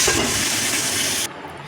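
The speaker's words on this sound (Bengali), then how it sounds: "আমরা এখানে কড়াইতে মাছের মুড়োগুলো দিয়ে দিয়েছি এবার এক এক করে মাছের মুড়োগুলি ভেজে নিতে হবে" Catla fish heads frying in hot oil in a wok give a loud, dense sizzle and hiss that runs steadily, then drops suddenly to a quieter crackle.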